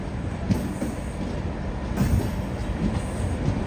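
A passenger express train rolls past on the Kannur–Bengaluru line, its wheels and carriages producing a loud, steady rumble with faint rhythmic clicks over the rail joints, with no voices present.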